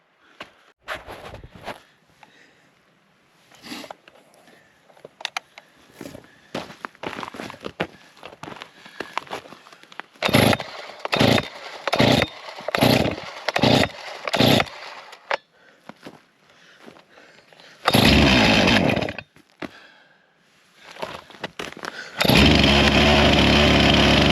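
A Stihl MS261C chainsaw is pull-started cold outdoors in freezing weather: a run of six or seven sharp, rhythmic starter-cord pulls, a brief sputtering catch, then the saw fires and runs loud and steady at the end.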